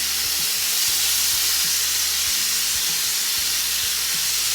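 Ground beef sears in a hot pan, left undisturbed, giving a loud, dense, continuous sizzle and hiss up close, with low thumps and clicks beneath it.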